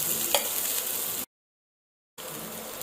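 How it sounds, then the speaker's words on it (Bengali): Onion and green chili sizzle in a little hot oil, a steady frying hiss with one brief clatter near the start, cutting out to silence midway before the sizzle resumes. "এখন এর মধ্যে একটু পেঁয়াজ আর কাঁচামরিচ কুচি গরম করি হালকা তেলের মধ্যে"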